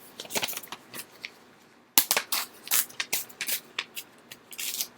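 A sheet of paper, folded first, is torn apart by hand to make a fortune teller craft, giving a series of dry, crisp ripping bursts close by after a short pause, with no talking.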